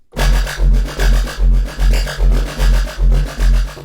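A dry synthesizer patch pulsing in a steady rhythm, eight even throbbing notes over a deep sustained bass, fairly loud and close with no voices.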